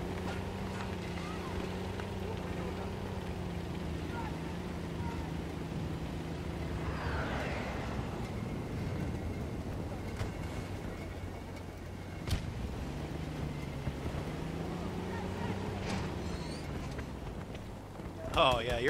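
A heavy T14 Armata tank engine hums steadily, dips, then rises again, with scattered clanks and a sharp click of brakes, and a voice talking quietly over it, in the video game Battlefield 2042.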